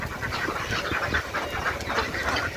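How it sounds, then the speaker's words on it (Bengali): Many ducks quack in a busy, overlapping chorus at a duck farm, fairly close, with a steady background hum. "এই যে দেখেন হাঁস হাঁসের ফার্মও আইছি"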